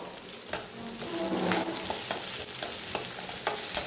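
Finely chopped onions for sambar sautéing in a pan, a steady close sizzle with intermittent spatula scrapes and stirring clicks, no voices.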